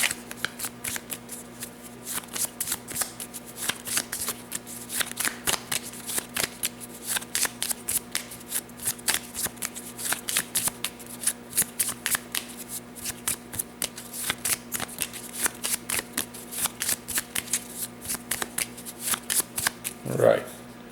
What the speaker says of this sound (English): Now we're going to shuffle their draw pile.